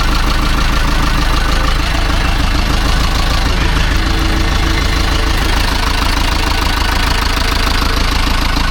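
An overhauled Ursus C-360 tractor engine, freshly fitted with an air filter, runs loud and close at a steady idle, its rapid rhythmic knocking chug continuing without a break.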